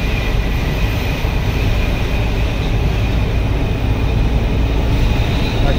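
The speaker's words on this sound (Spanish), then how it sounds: "Aquí estos trenes cañeros." Sugarcane trains pass in Colombia's Valle del Cauca with a loud, continuous rumbling roar that stays steady throughout, close by and with no voices.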